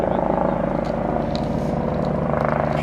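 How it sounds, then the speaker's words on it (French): A gendarmerie helicopter flies overhead above a garden, its rotor making a steady throbbing drone with a rapid pulsing beat that stays loud throughout, with no voices. "il y a un hélicoptère"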